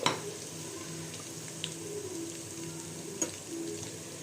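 Chicken pieces fry in a pan, browning with turmeric, giving a steady close sizzle with soft crackles and a couple of brief clinks, no voices.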